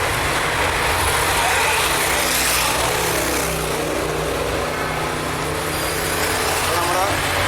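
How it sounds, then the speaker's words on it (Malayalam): City road traffic leaving town flows past in a steady, loud roar of engines and tyres, a continuous dense wash with no clear gaps. "നഗരത്തിൽ നിന്ന് ഇറങ്ങിപ്പോകുന്ന വാഹനങ്ങളാണ്"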